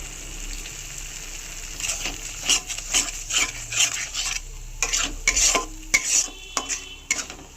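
Spices are stir-fried with spinach and paneer in a pan, with a steady sizzle under repeated scraping and stirring strokes that come in uneven bursts, close and fairly loud.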